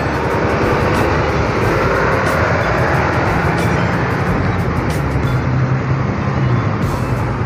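A Harapan Jaya bus travels along a road on a Tulungagung route, a steady loud broadband roar of engine and tyres that holds constant throughout, with no pause or voices.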